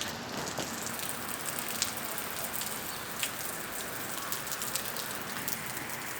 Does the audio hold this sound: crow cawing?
no